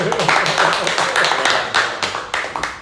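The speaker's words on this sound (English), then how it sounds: "Can we give James a round of applause?" A small group gives a round of applause at a coffee and cocktails venue, a short burst of close, uneven hand claps mixed with chatter and voices.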